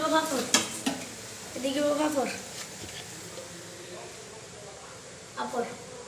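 Potato bhaji frying in a pan and being stirred, with a lively sizzle and scraping strokes close by while people talk over it in bursts.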